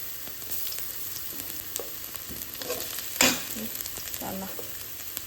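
Bruised ginger and garlic stir-fried in a pan for a cauliflower and egg dish, a steady close sizzle with scraping stirs and one sharper clatter midway.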